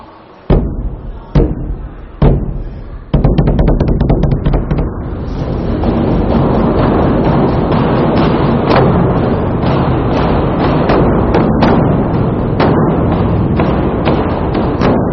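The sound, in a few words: drum being struck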